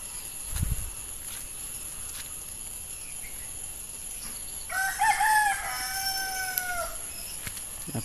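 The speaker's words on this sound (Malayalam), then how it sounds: "കോഴികളൊക്കെ കൂവണുണ്ട് അവിടെ നിന്ന് ഇവിടുന്നൊക്കെ." Roosters crowing on a Kerala homestead where chickens are raised, one clear cock-a-doodle-doo in the middle distance over steady insect hiss and quiet outdoor ambience.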